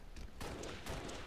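Gunfire in the shooter game Halo: Reach, with two sharp shots about half a second apart, each followed by a short rumbling tail, fairly quiet overall.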